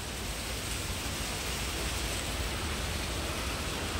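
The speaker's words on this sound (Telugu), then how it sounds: "అక్కడ చూడండి వర్షం ఎలా పడుతుంది" Summer rain falls in a steady, even hiss that stays constant and moderately loud throughout, with no talking.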